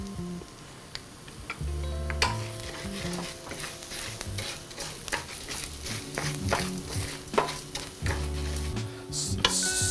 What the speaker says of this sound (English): I'm just gonna saute this just a little bit for a minute or two or so